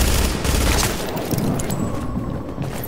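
Rapid sustained gunfire in a shooter video game, a dense loud fusillade hammering at a turret almost continuously, with booming impacts underneath.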